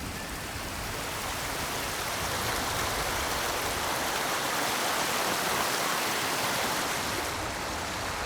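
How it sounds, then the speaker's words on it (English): A waterfall in the video game Ghost of Tsushima pours in a steady, broadband rush, loud and close, with no voices over it. "Under the waterfall."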